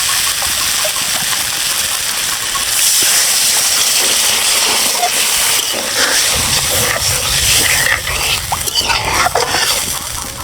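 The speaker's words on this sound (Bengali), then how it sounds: "এখন আমি পরিমাণ মতো জল দিয়ে দেবো।" Water poured into a hot pan of fried potatoes for a thin fish curry with konkan fish, giving a loud, steady hiss and sizzle with bubbling patter throughout, no voices.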